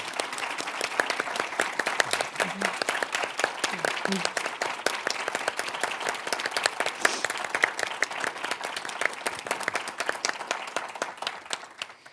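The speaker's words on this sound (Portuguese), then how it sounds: "já puxo aqui uma salva de palmas para todos os participantes" A room applauding the participants of a constitutional law moot court, many hands clapping in a steady, sustained burst that carries on for several seconds before tapering off at the end.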